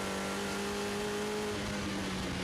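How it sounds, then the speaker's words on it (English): TVR Tuscan race cars downshift and then accelerate on a circuit, a sustained engine drone with a rising pitch heard at a distance. It stays steady and faint throughout, with a broad roar over it. "Down through the gears into Stirling's, turn left and accelerate now back down towards the right-hander at Clark Curve"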